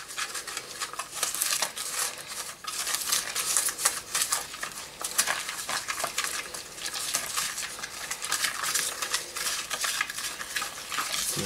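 A rubble mixture for terrain bases being stirred and mixed in a small container, a steady close-up scraping and gritty rattling that continues without pause and with no talking.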